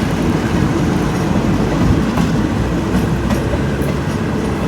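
Alsthom locomotive 4123 hauling express parcel train 986 pulls out of Ban Pong station in Thailand, a loud, close, continuous rumble of rolling stock with rhythmic wheel clatter and a few brief metallic clicks.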